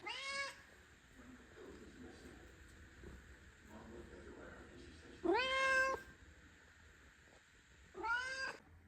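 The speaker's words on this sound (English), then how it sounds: "my cat Sunny will not stop meowing" A cat meows three times, loud and close, with long drawn-out cries separated by quiet pauses.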